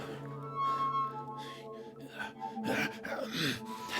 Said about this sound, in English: Whatever's out there is close enough that we can hear this snickering sound, like really fast,